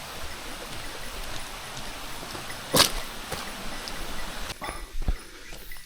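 Stream water flows near a waterfall in Japan, a soft, continuous rushing wash heard close by. A brief bright splash or clink sounds partway through, and a few faint knocks come near the end.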